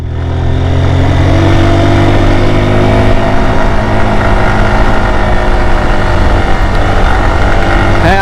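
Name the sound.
motorcycle engine revving on steep mountain road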